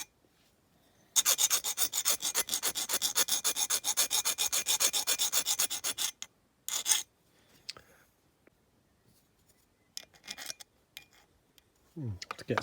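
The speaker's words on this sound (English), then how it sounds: "I'm just going to file down the casting line on the bumper." Metal file rasping steadily along the casting line of a die-cast Dinky Toys 284 Austin London Taxi bumper, a dense run of quick close strokes for several seconds, then a pause and a few short scattered scrapes.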